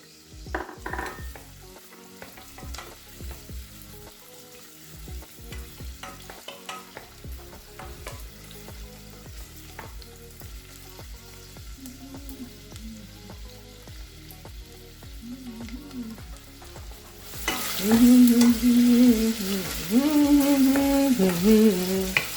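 Food fries in hot oil in a pan while meat pie with oat flour is being made, with a steady sizzle and occasional utensil taps. The sizzle swells sharply louder near the end as something hits the oil.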